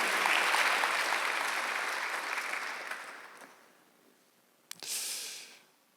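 Congregation applause during a Sunday church worship service, a broad wash of clapping that fades over a few seconds, followed by a brief thump and a short hissy burst near the end.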